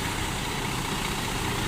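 Bus engines, including a Kurnia Scania bus, idle at an auto mechanic's air-conditioning workshop, giving a continuous broadband rumble and hiss at steady level.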